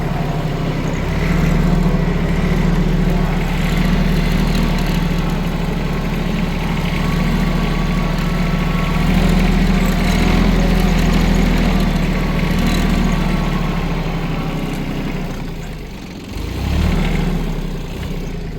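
A tractor engine runs steadily and loud while ploughing wet black soil at the end of May, holding a deep, even drone throughout with a brief surge in revs near the end and no voices.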